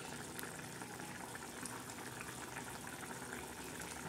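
Bombil (Bombay duck) fry curry boiling in a pan, a steady broadband bubbling and hiss that runs evenly throughout at close range with no talk.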